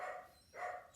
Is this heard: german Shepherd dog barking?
yes